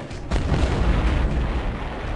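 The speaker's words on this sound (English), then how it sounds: "I'm using the epic rocket launcher and..." A rocket launcher explosion in the video game Crusader: No Remorse: a sudden loud blast that opens into a sustained, rumbling roar lasting about two seconds.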